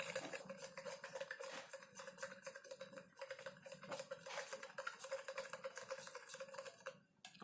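A spoon clinks and scrapes repeatedly against a glass as sugar is stirred into water in a simple lab exercise, producing quiet, close, irregular taps and swishes that continue steadily with no talk.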